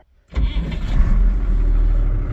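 A farm tractor's engine restarts after the clutch is pulled, firing abruptly from silence into a loud, close, steady low rumble that settles into idle.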